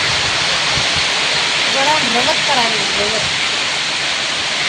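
Heavy rain pours down in a dense, loud, unbroken wash of noise near a village wood-fired hearth, with a faint voice briefly audible underneath.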